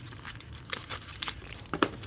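A plastic bag crinkles and rustles close up as long-handled ratchets are unpacked from it, in several short irregular bursts with no talking.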